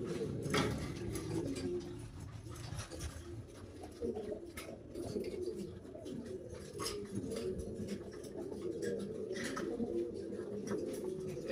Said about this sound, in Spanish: ¿Y esta paloma?